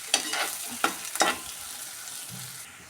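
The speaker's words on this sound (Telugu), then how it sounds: "ఉడకదు కదా, దానికోసం ఇప్పుడు వేసేసి ఇలా ఫ్రై చేసేస్తున్నాను" Drumstick pieces fry in a pan for egg tomato curry, sizzling loudly and close as they are stirred in three quick bursts before settling into a softer crackle.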